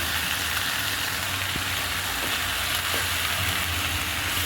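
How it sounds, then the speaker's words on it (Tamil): Tomatoes and vallarai leaves sautéing in a pan with a little salt give off a continuous, even sizzle and fry, close and steady, with faint stirring knocks now and then and no talk. "ஒன்று ரெண்டு தக்காளி ஆட் பண்ணி நல்லா வதக்கிக்கலாங்க"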